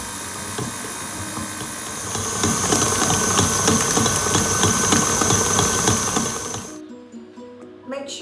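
An electric mixer whirs steadily as it whips a softened block of plant-based butter for vegan cake frosting, growing louder and busier midway, then cutting off abruptly near the end, leaving a few faint clinks.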